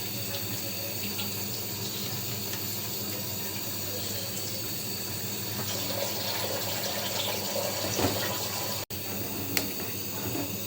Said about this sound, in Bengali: এখন আমি দুধটা গুলে নেব ঠান্ডা জল দিয়ে।